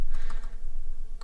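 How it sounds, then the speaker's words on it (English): Typing on a computer keyboard, a quick run of close, crisp key clicks in a steady patter with no talk. "So let's type it"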